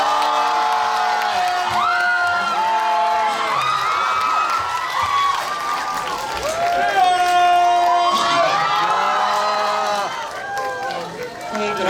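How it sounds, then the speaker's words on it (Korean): Crowd at a Korean film talk event cheering and clapping to welcome two actors, steady loud noise throughout with excited voices and shouts layered over it and a host talking. "다시 한번 큰 박수로 맞이해 주세요"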